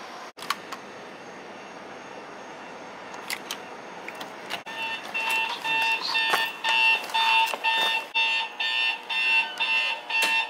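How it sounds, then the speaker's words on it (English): An alarm clock rings loudly nearby in repeated electronic bursts, starting after a few seconds of quiet room noise with a couple of clicks. "Definitely a nice loud alarm clock."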